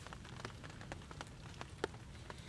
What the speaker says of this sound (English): Got a little bit of rain inside here